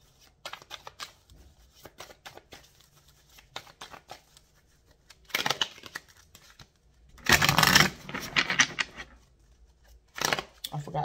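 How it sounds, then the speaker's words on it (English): Cards being shuffled in several bursts of crisp riffling and flicking, louder toward the end, close up with brief pauses between. "I got to shuffle this deck right here"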